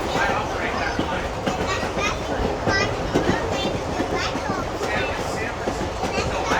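A San Francisco light rail train runs with a steady, loud rumble and rhythmic clacking of wheels on track, with faint voices mixed into the continuous noise.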